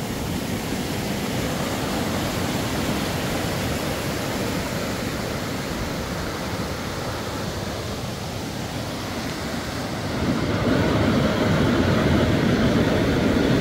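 A waterfall in Coorg roars as a loud, steady broadband rush that swells a little louder near the end, with no voices.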